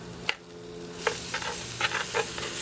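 Eggplant stuffing of Italian breadcrumbs, garlic, onion, green bell pepper and crushed tomatoes is stirred in a pan over faint steady sizzling, with several soft scraping strokes spread across a few seconds.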